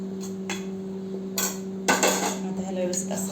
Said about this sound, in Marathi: आता ह्याला व्यवस्थित असं मिक्स करत राहायचं.